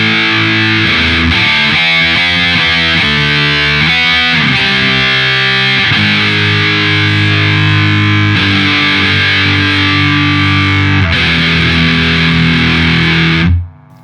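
Loud electric guitar driven through the MS Drive distortion setting of a Zoom 505ii multi-effects pedal, gritty chords and riffs ringing out continuously before cutting off at the end.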